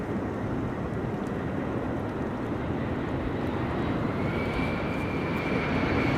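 An Air France airliner at Amsterdam Schiphol Airport during Storm Benjamin's high winds, a steady loud engine roar with heavy broadband wind noise throughout, a faint rising whine appearing near the end.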